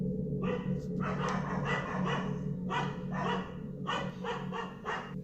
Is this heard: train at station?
no